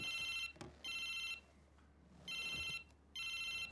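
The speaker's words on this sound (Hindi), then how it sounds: "पहले फोन तो उठाने दे" A mobile phone ringtone rings in repeated electronic bursts, four bright chiming phrases separated by short gaps, loud and close, with no talking over it.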